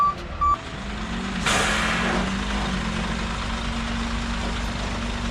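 A tow truck gives two quick reversing beeps, then its engine idles with a low steady rumble and a sharp hiss of released air, fairly close and with no voices.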